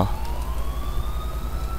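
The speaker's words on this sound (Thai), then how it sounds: "และนี่คือรถพยาบาลคันต่อไปนะ" An ambulance siren in the video game GTA IV wails steadily with a slowly rising tone over a low rumbling engine, moderately loud and continuous.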